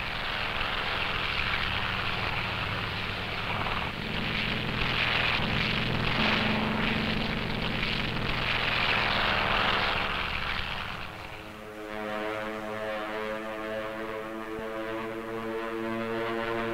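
World War II U.S. Navy carrier propeller planes drone overhead with a steady, loud roar, the engine pitch shifting as the planes pass and fade.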